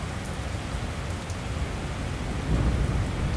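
Steady rain pours down on an outdoor bike show in Morrow, Georgia in a dense, continuous hiss with low rumbling underneath, growing slightly heavier toward the end.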